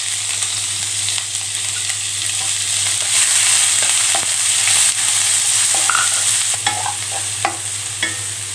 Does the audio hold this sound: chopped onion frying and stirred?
yes